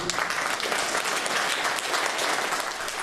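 Steady, dense applause fills a county government meeting, a loud, even wash of many hands clapping continuously from start to finish with no voices standing out.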